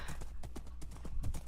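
A horse's hooves clip-clop in steady rapid rhythm in Minecraft, close and continuous, ridden along a built highway with no talk over them.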